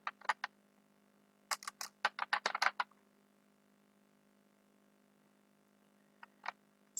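Keys are tapped on a computer keyboard while code is typed, quiet close clicks in a few short bursts with pauses between, a dense run in the middle and a couple of stray taps near the end.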